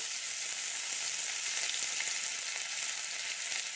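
Grated ginger sizzles in hot oil in a pan while the spice mix for vegetable chops cooks, giving a continuous crackling fry at a steady moderate level.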